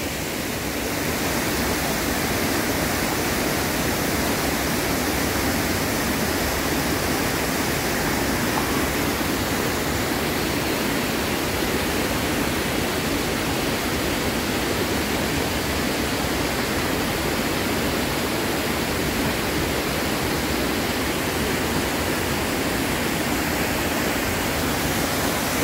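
A waterfall in a preserved natural habitat, a loud, constant broadband roar of rushing water filling the whole stretch with no break and no voices.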